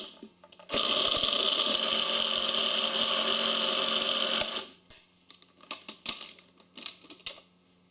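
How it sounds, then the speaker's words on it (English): An electric dough maker churns a dough of sugar and all-purpose flour with a loud, steady motor drone lasting about four seconds, then stops, leaving scattered clatter and knocks. "Then use the dough maker to mix for 5 minutes."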